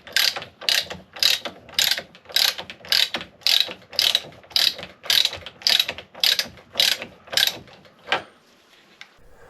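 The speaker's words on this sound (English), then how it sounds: "I'm just going to screw the cap in till it bottoms out" A fork cap being screwed by hand onto a Triumph Daytona 955i front fork, giving about fourteen evenly spaced ratcheting clicks in a steady rhythm, close and crisp, ending with a fainter rattle and no talking.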